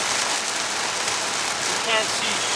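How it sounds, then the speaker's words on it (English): Heavy rain pounding steadily on a Volkswagen Golf while driving through Ontario, a dense continuous hiss of drops drumming the car body and glass, close and unbroken throughout. "I hit the most heavy rain that I'd ever driven through"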